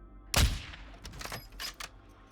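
Gunfire in Warzone DMZ: one loud close shot followed by a few quicker, softer shots spaced irregularly over a couple of seconds, with no talk.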